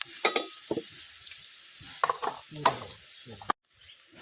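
Onions with a pinch of salt fry in a pan for a Malvani-style shark curry, a soft sizzle broken by several scraping stirs of a spoon, ending in a sudden stop and near silence.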